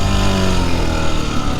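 Small Honda MD90 motorcycle engine running loud and close on a test ride, a steady low buzzing drone with slight wavering in pitch as it turns around.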